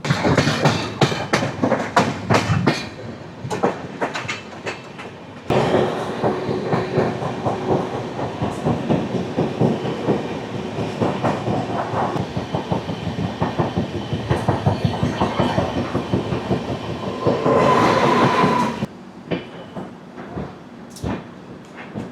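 Jnaneswari Express passenger train running on rails near Santragachi Junction, heard from on board as a loud, continuous rhythmic clickety-clack of wheels over rail joints, with a harsher burst of metallic clatter toward the end and no talk.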